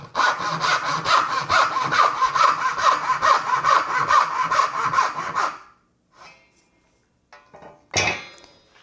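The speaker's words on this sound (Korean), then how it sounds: "서양톱으로 미는 톱질 하셔도 됩니다." Brisk, steady push strokes of a western hand saw cutting wood, loud and close, for several seconds, then it stops, leaving a couple of clunks and a sharp knock.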